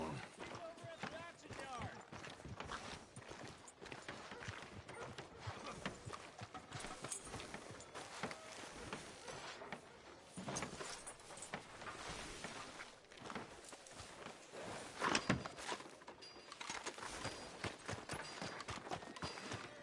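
Steady hoofbeats of a horse in Red Dead Redemption clip-clop in a walking rhythm throughout, moderately close, with a quiet background ambience.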